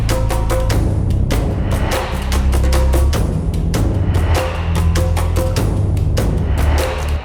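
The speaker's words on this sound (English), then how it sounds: "The first thing would be obviously the bass and percussion, which sounds like this." Bass and percussion layers of a produced song play together, a steady driving beat of punchy drum hits over a thick, sustained low bassline, loud and continuous with no voices.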